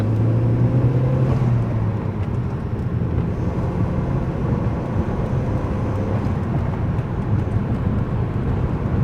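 A Ford Focus ST with a cold air intake and new motor mounts drives along, its engine giving a steady loud drone with road rumble throughout, no voices.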